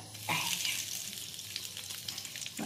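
Bean puris fry one at a time on a griddle, with a close, crackling sizzle that flares and settles in uneven bursts.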